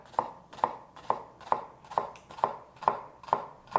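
A kitchen knife dices an onion on a cutting board with about nine crisp, evenly spaced chops at a brisk, regular rhythm, close and distinct with no talking.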